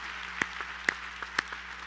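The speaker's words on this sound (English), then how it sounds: "Let's give the Lord some applause for that." A church congregation gives a few sparse claps during a Sunday morning service, with three louder sharp claps standing out over a quiet room and no talking.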